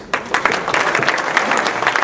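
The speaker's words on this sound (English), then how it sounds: "I want to give a big round of applause to everybody" Sustained clapping from a room full of people, dense and even, loud and close throughout.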